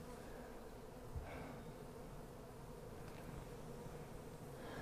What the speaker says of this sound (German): Das sind doch schon ganz schön viele Bienen.